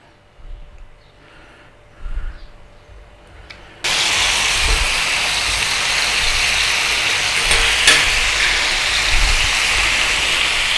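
Pork for Thai grilled pork salad dropped into a pan and fried low and slow, a quiet opening with faint knocks before a sudden, loud, steady sizzle takes over and continues evenly to the end.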